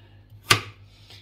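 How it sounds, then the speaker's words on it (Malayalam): A knife chops vegetables such as carrots, giving one crisp, close chop on a board with a faint tap after it. "ഇങ്ങനെയൊന്ന് അരിഞ്ഞെടുക്കുക കേട്ടോ."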